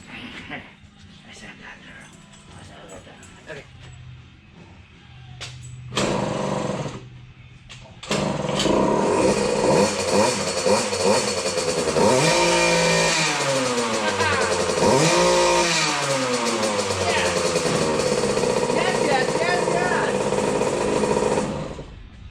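A dirt bike, likely a two-stroke YZ250 after a stator repair, cranks with a few attempts, then fires and runs loud and close, revving up and down repeatedly with a buzzy high-pitched exhaust; a voice is heard briefly early on.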